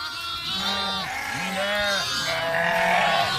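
Sheep and lambs bleat repeatedly close by in a flock, several wavering calls overlapping in a steady chorus, with no talking.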